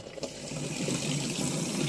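Water runs from a tap into a sprayer pump tank, a close, steady gurgling stream that thickens slightly as the tank fills, with no talk.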